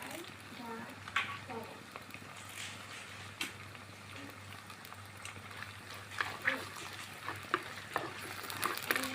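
Green chilies and curry leaves sautéing in a pan, a soft steady sizzle with scraping stirs and occasional utensil clicks, while a person talks over it throughout.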